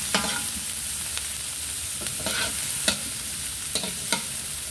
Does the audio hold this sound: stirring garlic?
yes